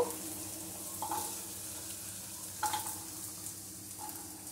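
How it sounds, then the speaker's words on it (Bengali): Cut potatoes fry in hot oil in a home kitchen, giving a steady close sizzle broken by a few brief stirring clinks. No one speaks. "এবারে এই তেলের মধ্যে আমি কেটে রাখা আলুগুলো ভেজে রাখ ভেজে নেব"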